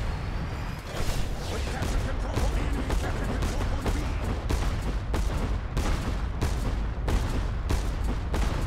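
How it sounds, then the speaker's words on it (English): Gunfire in the video game Cloud Pirates rattles in dense, continuous rapid bursts with sharp repeated cracks, fairly loud, running under people talking. "Careful, he's shooting me!"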